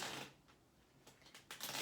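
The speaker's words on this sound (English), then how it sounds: "Let me give this third deck one more good shuffle." A deck of tarot cards being shuffled by hand at close range: soft, quiet riffling bursts, one near the start and a few quick flutters toward the end, with no talk.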